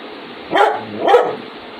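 Two loud, close dog barks in quick succession indoors at an animal shelter, over a low room hiss with no talking.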